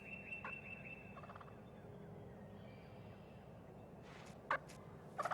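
Eastern wild turkeys gobble at a distance outdoors: one short gobble early on, then louder bursts near the end over steady ambient hiss.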